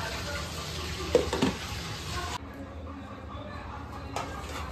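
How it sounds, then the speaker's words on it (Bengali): Prawns frying in hot oil in a home kitchen, a steady broadband sizzle with a few brief stirring clatters early on, the hiss dropping to a softer background crackle partway through. "এই যে এখানে চিংড়ি মাছ ভাজাও হচ্ছে"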